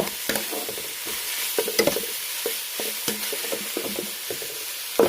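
Chili paste with shallots, lemongrass and a little shrimp paste stir-frying in a pan, a soft steady sizzle broken by repeated scraping and tapping of a spatula against the pan in an uneven rhythm, no talking.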